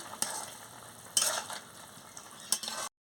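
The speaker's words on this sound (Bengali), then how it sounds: "এবার আমি গরম মশলাটা দিয়ে দিচ্ছি দিয়ে ভালো করে একটু নাড়িয়ে নিচ্ছি" Soybean curry being stirred in a pan after garam masala goes in, with a spoon scraping in three sharp bursts over a steady low simmering hiss, close and fairly faint.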